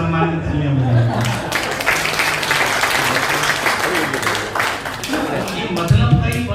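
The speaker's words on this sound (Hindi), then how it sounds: "एक बार आपके सम्मान में तालियां बजाएं" Audience applause at a Hindi shayari poetry recital, dense steady clapping running loud throughout, mixed with crowd noise and a voice rising briefly near the end.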